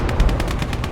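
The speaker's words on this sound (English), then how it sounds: "That's artillery." Rapid, loud artillery and gunfire bursts from a World War II tank battle video game, a dense rattling volley of close repeated shots lasting about a second.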